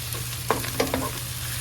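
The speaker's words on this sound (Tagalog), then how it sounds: "So igisa lang natin ng konti" Lemongrass-boiled, pressure-cooked meat for kare-kare sautés in a pan with a dense close sizzle, as a few quick utensil scrapes and taps sound over the steady hiss.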